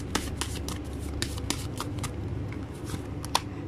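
Tarot cards shuffled close up in quick, riffling bursts of crisp flicks and slaps, steady and alone.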